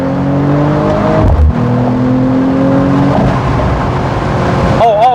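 A Mercedes-AMG CLE 53 Cabriolet drives with its top open on a cold day, its engine droning loudly and close, with a sharp exhaust pop breaking through the steady note.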